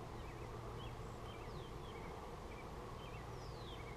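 Honeybees hum steadily around an open hive during a bee farm hive inspection, a faint continuous outdoor drone with occasional higher buzzing passes, no one speaking.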